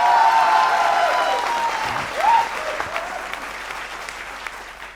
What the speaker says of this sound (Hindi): आज की ऑडियंस वाकई बहुत कमाल, एक बार अपने लिए ताली बजा।